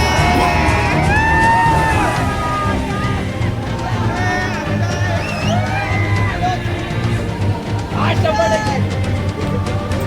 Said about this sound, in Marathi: पब्लिक कशी ओरडते बघा गरुडाला